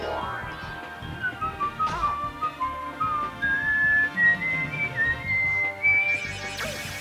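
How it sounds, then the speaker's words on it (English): A person whistles a high, wavering tune alongside game music, the thin pitched notes sliding upward in short phrases over several seconds at close range. "I can whistle pretty decently, but that's a little too high for me."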